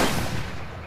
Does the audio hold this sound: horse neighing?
no